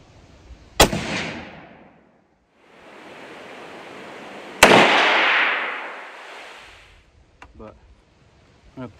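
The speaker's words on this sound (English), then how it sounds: "Pull one more shot down range with it" Two loud, sharp rifle shots fired down range at an outdoor range during a sight-in, each with a long rolling echo. A stretch of broadband noise sits between them, and a brief voice follows at the end.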